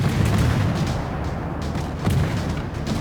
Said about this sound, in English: The torpedo hit it, but it wasn't enough.